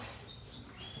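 Bright, thin chirps of a red-whiskered bulbul repeat over a steady low background murmur, close by and fairly quiet.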